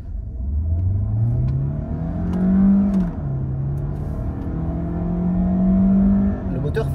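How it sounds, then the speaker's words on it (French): A DS9 E-Tense 250 accelerates hard from a standstill at full throttle, its engine droning loudly and climbing in pitch through gear changes, heard close up from inside the car. "Le moteur fait pas mal de bruit quand même"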